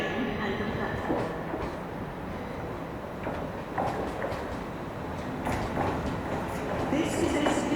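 A train waits at a Newcastle station platform with a steady rumble and hum, occasional clunks and hiss, and a continuous busy background wash.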